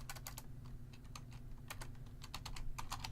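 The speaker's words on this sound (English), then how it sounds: "as I'm typing this" Typing on a computer keyboard while building an Unreal Engine blueprint, with quick irregular runs of close, light key clicks and brief pauses, heard alone at low volume.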